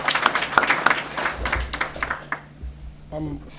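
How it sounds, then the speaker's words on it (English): Applause for a speaker at the launch of a car dealers' association in the Gambia, brisk clapping for about two and a half seconds that thins out and stops, followed by a brief voice. "One more round of applause to him, please."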